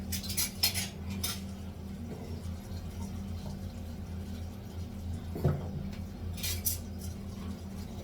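Metal cutlery clinks and clatters against each other in bursts while being washed, over a low running hum, close up, with occasional sharper knocks.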